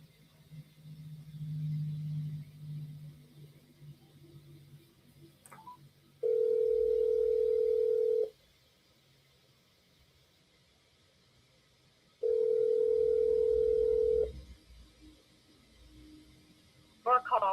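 Two long ringback tones while a phone call is placed, each steady buzz lasting about two seconds with a gap between, loud and clear over faint room noise, with brief muffled talk at the start.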